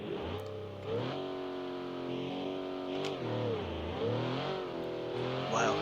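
A drag car engine in the video game All Out Drag Race revs up and down repeatedly, a loud steady harmonic growl that rises, dips and climbs again, heard alone.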